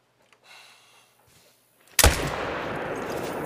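In a hunting video game, a rifle fires a single sharp, loud gunshot at a black bear after near silence, followed by a sustained rumbling echo and ambience.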